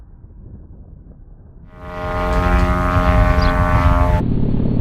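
A radio-controlled model airplane flying an aerobatic snap: a propeller engine drone rises from faint to a loud, steady buzzing roar that holds for several seconds.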